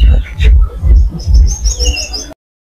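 Pigeons at a pigeon farm coo up close in low, throaty bursts, with a few thin chirps above, before the sound cuts to silence.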